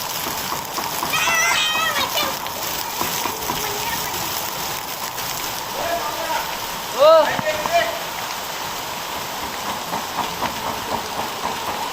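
A summer hailstorm in Konkan drums in a steady, dense patter throughout, with people talking over it and a brief louder thump or squeal partway through.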